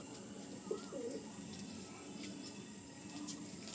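Ringed pigeons offered for sale in Garia, Kolkata, give a couple of soft, faint coos near the start against a quiet room hum, with no voices.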